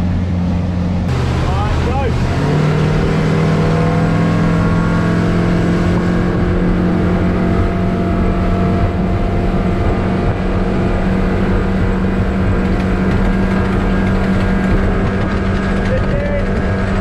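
A 2022 Mercury 115hp CT outboard boat motor roars loudly and continuously at high speed, with steady engine whine and rushing water noise close by.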